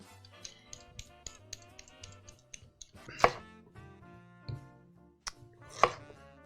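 Large potatoes are peeled by hand in a kitchen: a quick run of light scraping strokes, then a pause and a few sharper, louder knocks, all close and with no talking.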